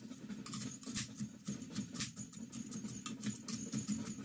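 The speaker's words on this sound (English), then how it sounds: "if you can hear the racket going on in the background, that's my canner." Jars rattle in a boiling-water canner while being sterilized for applesauce, a busy irregular clattering and bubbling racket in the background throughout, with no talk.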